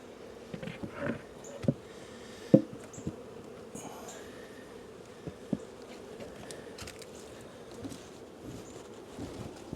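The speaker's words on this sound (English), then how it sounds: "Bees are investigating now." Honey bees buzzing faintly around a hive being reduced outdoors, a thin steady drone with occasional louder knocks and handling bumps close by.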